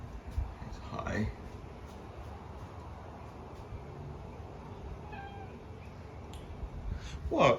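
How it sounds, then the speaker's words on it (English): A house cat meows a few times, faint and fairly near, over steady background noise from a running ceiling fan and dryer, with a louder cry at the end. "Here's my cat once again."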